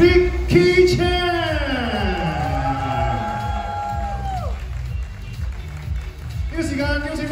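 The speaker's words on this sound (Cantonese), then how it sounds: "掌聲唔好停" Applause and cheering from an awards ceremony audience, continuous clapping and whoops under a loud amplified voice over the PA and sliding musical tones, the crowd noise steady throughout.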